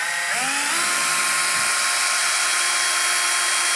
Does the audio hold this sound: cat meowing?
no